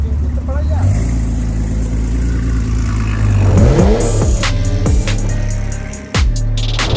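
A car engine revs as the car is driven inside, its pitch rising and falling in several loud, close surges over a steady rumble.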